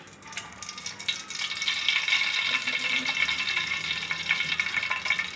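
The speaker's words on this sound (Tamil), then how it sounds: "இதை ஆயிலை அப்படியே ஊற்றிக்கலாம்." Cooking oil is poured into a pan set on a stove, giving a continuous hissing, faintly sizzling pour for several seconds with no talk.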